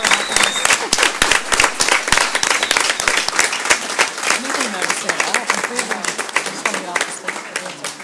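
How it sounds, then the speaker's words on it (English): A conference audience at an international youth-in-care summit stands and applauds, a dense, sustained wash of clapping with sharp individual claps standing out, filling the room up close and tapering slightly toward the end. "if everybody could stand up and give each other a round of applause"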